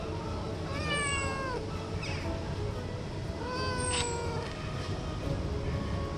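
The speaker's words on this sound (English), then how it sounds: "There's a cat just over there, isn't there?" A cat meows repeatedly outdoors near a harbour with sailboats: two drawn-out, rising-and-falling cries several seconds apart, fairly close and clear over a steady background rumble.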